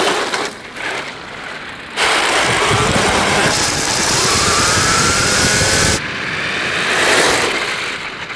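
An electric motor on a 3D-printed 1/8-scale 4x4 RC buggy runs loud and close. A broadband whirr swells as the buggy starts and holds steady, with rough hissing texture like wheels on a surface.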